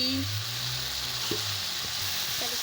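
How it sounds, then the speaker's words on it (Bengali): Spinach and mixed vegetables give off a steady, soft sizzle in an uncovered pan, with a low hum and a few faint stirring touches, and a voice speaks briefly over it. "ঢাকাটা খুলে ভালো করে আনাজগুলোকে কষিয়ে নিচ্ছি"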